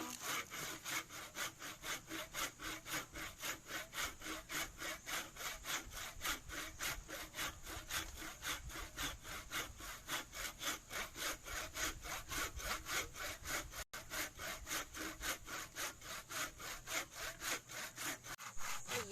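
A hand saw cuts through wood in steady, rhythmic back-and-forth strokes that continue without pause, with no talking.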